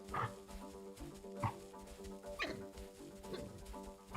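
An African wild dog runs in the zoo-management game Planet Zoo, giving a rapid series of soft thumping footfalls and scuffles with brief yips, moderately loud over a steady game ambience.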